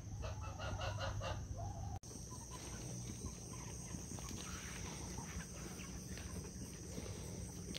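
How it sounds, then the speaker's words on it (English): Broody hens inside a backyard chicken coop cluck continuously at close range, quiet and repetitive, with a brief sharp break partway through before the clucking resumes. "we have 2 broody hens in here and another one up there."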